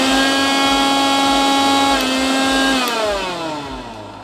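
An Amazon Basics 750W mixer grinder runs loud and close with a steady high whine, then its pitch drops and the motor slows as it winds down.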